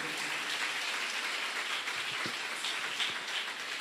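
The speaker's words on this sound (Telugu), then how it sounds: "చప్పట్లు కొట్టండి గట్టిగా." An audience at a Christian church sermon claps hard and continuously, a dense, even patter of many hands with a few sharper individual claps.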